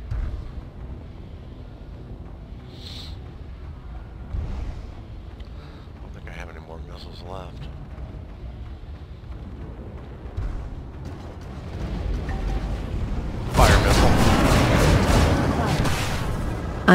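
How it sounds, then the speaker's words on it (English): Missiles launched from a ship in the Star Citizen video game, a sudden loud roaring whoosh that swells late and holds, following quieter cockpit beeps and hums, with a person talking intermittently. "Unloading missiles."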